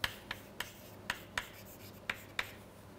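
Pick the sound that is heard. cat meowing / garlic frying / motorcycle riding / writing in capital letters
writing in capital letters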